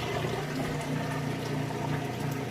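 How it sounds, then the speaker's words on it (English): A washing machine drains, water rushing and gurgling steadily as it is pumped out, with a low motor hum underneath, continuous and fairly close. "You can hear it draining that water out nice and fast."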